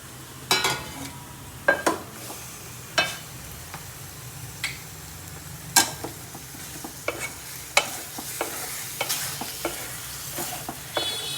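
Pieces of murrel fish fry in a pan for pulusu, a soft steady sizzle punctuated by sharp spatters and occasional clinks of a utensil against the pan, close by with no talking.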